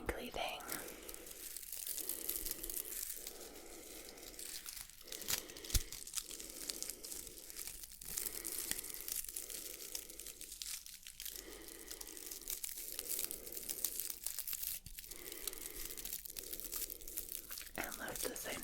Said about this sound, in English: crinkly thing.